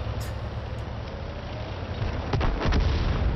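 A tank's ammo rack explodes in World of Tanks, heard as a couple of sharp, heavy booms near the end over a steady engine rumble.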